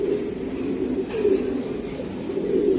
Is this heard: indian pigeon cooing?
yes